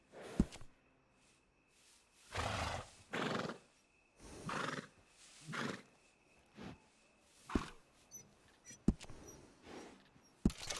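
A horse in the video game Red Dead Redemption 2 neighs and whinnies several times in bursts, with sharp hoof knocks in between, clear and fairly close.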